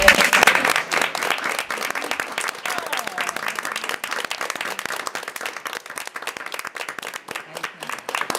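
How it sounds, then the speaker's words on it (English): A school board meeting audience claps for the departing superintendent, a sustained round of sharp, scattered handclaps that starts strongest and carries on at a moderate, slightly uneven level, with crowd murmur underneath. "I'd like to ask everyone to join me in a round of applause"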